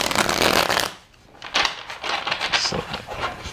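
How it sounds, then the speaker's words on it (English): Cards riffle and shuffle in several quick bursts, a brief pause, then more soft flicking and slapping as the deck is worked, close up. "One more shuffle."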